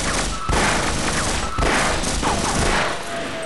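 Loud, continuous gunfire in Half-Life aimed at a turret, with sustained rapid bursts separated by two brief pauses.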